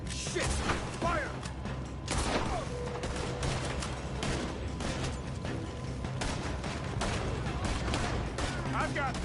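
Dense bursts of gunfire and automatic weapon fire crackle through a chaotic game battle, with rapid loud shots, mechanical clatter and crashes layered over one another as voices shout underneath.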